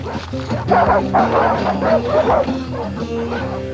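Dog from the 1989 film Pair of Aces barking in repeated loud bow-wow bursts with some yips and whimpers, close and insistent, with a voice faintly in the background.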